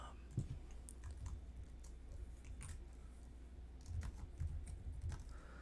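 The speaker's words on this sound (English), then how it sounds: "Maybe this would be like some good keyboard sounds if you can hear it." Rapid, soft clicking of computer keys being typed, steady and continuous, with faint background hum and a few louder taps.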